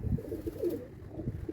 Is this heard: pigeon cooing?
yes